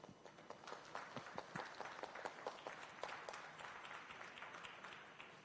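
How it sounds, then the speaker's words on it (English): Scattered applause from a modest crowd at a championship bulls class in a livestock show ring, individual claps distinct and uneven, steady for several seconds at moderate loudness. "I'd sure like to give this championship class a round of applause."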